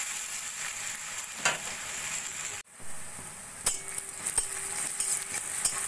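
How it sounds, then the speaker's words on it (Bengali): Two medium onions, thinly sliced, frying in hot oil in a pan: a steady close sizzle runs throughout, with occasional stirring clinks and scrapes. "পেঁয়াজটা দিয়ে কিছুক্ষণ ভাজা ভাজা করে নেব।"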